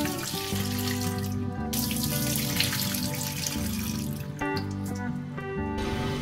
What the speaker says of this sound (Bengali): ততক্ষণ চালটাকে ভালো করে এইভাবে বারবার জল পাল্টে পাল্টে রগড়ে ধুয়ে নেব পরিষ্কার করে